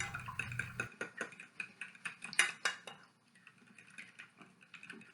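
Eggs and chopped bacon are whisked together in a bowl, with a quick run of close clinking and tapping of utensil against the bowl that eases off to softer scraping strokes, and no talking.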